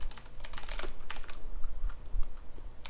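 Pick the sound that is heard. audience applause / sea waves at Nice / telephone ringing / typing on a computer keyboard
typing on a computer keyboard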